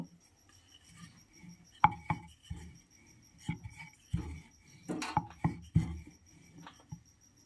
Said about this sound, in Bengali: এখানে একটা জলের বোতলের ঢাকনা নিয়ে নিয়েছি এর থেকে আমি ছোট ছোট করে কেটে নেব